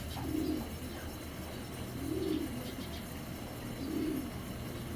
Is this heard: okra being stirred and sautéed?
no